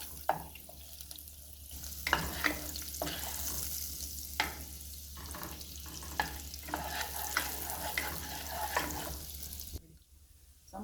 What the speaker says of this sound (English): I'm gonna go ahead now and toss my butter right into the pot, and I'm gonna wait until this is melt